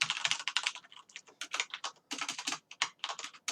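Someone types on a computer keyboard, a close, quick run of clicky keystrokes in bursts with short pauses between them, with no voices.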